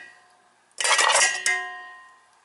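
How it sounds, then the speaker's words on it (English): Spring roll ingredients including spinach and green onion tossed into a container, a sudden clattering rattle with a metallic ring, a second knock right after, then a fading resonance. "So I'm going to throw it all into this container."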